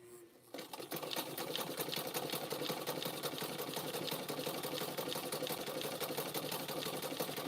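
A sewing machine stitches fabric-wrapped rope while making tea cups, its rapid steady mechanical whir running continuously and close after a brief quiet start.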